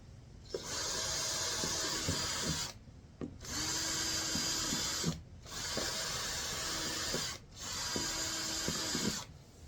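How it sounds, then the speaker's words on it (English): A power drill whirs through a plastic box in four sustained bursts of a couple of seconds each, separated by short silent pauses. "Let's try not to drill through the worm"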